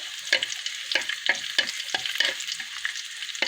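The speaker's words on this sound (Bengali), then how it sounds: "এই চুলা ডাল বাগার দিয়ে দিব" Hot oil tempering lentil dal sizzles loudly and continuously, with repeated sharp crackling spits and clattering stirring strokes breaking through at an irregular rhythm, close by and with no talking.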